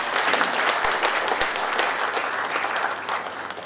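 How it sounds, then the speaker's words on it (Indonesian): Steady, dense applause from an audience at the opening of a disaster preparedness training fills the room, with close claps over a broad crowd clatter that fades slightly toward the end. "Tepuk tangan."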